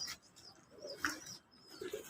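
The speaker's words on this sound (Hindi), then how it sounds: "ये उस्ताद के कबूतर, ये कुछ जोड़े वाले कबूतर हैं" Paired pigeons on a rooftop in Hyderabad give soft, low cooing in a few short, separate bursts against quiet outdoor background noise, with no talking.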